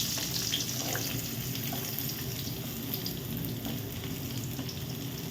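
Onions frying in hot oil with fennel seeds and cinnamon for a dhaba-style mutton dish, a steady close sizzle with faint scraping, no talk.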